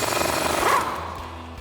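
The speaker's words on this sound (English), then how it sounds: "we can remove our axle nut with our 35mm socket on our impact." Impact wrench with a 35mm socket hammering loose the axle nut on a Toyota Tacoma during a CV axle install; one loud, dense rattling burst close by that fades within about a second and a half.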